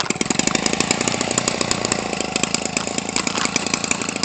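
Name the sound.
Homelite 25cc engine running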